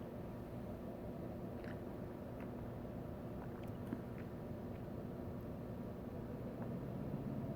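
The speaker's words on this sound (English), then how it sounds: "I hear engines." A low, steady engine drone hums in the distance, constant and faint, with no talking, from track repair crews' engines near a railway.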